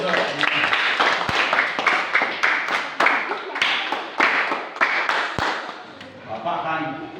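Students in a classroom clap their hands together in a loud, uneven burst of claps lasting several seconds, with voices mixed in throughout.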